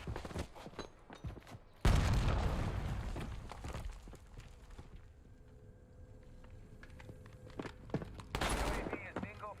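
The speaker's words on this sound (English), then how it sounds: "Frag going out." A frag grenade goes off in Call of Duty Warzone, a loud sudden boom that rolls and fades over several seconds, preceded by scattered clicks and shots, with another sharp burst near the end.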